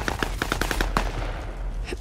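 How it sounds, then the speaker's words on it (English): Automatic weapon fire in Call of Duty: Modern Warfare (2019) comes as a rapid burst of about eight close shots, followed by a single louder report and fading ambience. "Taking fire over here!"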